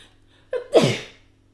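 A single sharp sneeze, preceded by a quick intake of breath, close and fairly quiet against near silence.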